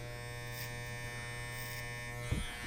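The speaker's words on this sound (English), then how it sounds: "I'm stopping my clipper my comb as I take the machine and go across" An electric hair clipper runs during a clipper-over-comb haircut, giving a steady close mechanical buzz with a constant hum, joined by a brief soft knock near the end, no talking.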